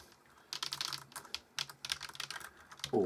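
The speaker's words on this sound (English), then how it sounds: "Imagine having to actually work on a keyboard like this instead of just using it for plaything." Someone types on the keyboard of a Commodore PET knockoff computer, producing bursts of close, clattering key clicks in quick irregular runs with short pauses, followed by a brief low hum at the end.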